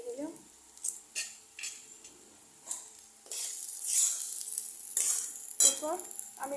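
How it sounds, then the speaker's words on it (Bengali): Polao rice frying with blueberries and cranberries in a pan, a steady sizzle punctuated by scraping stirs and clinks of a utensil against the pot, fairly close and moderately loud. "পোলাওয়ের চালটা ভাজা ভাজা করে নেব।"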